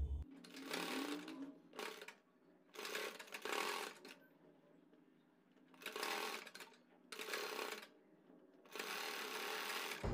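A home sewing machine stitches elastic onto a palazzo waistband, the elastic stretched as it goes, in several close, loud bursts of rapid whirring separated by short pauses.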